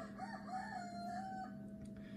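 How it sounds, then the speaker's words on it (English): A rooster crows once in a long, drawn-out cock-a-doodle-doo, moderately distant and steady against a quiet indoor hum, with no talk. "I'm really sorry about the rooster."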